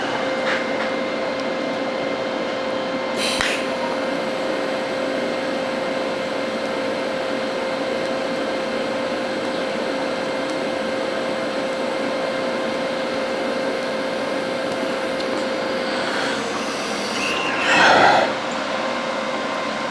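TIG welding a steel flag base: a steady, close electric hum and hiss holding unbroken for the full stretch, with a brief scraping sound near the end.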